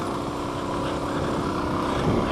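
A vehicle engine drones steadily and loudly while climbing uphill in third gear on Corona Pass, a continuous broadband roar mixed with wind noise throughout.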